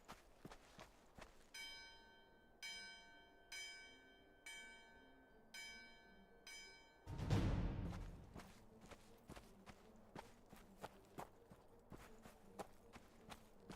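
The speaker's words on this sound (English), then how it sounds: "Ring the bell." A bell in the medieval online game Gloria Victis rings out in six clear, evenly spaced metallic strikes, each with a lingering tone. A heavy thud follows, then scattered footstep-like clicks.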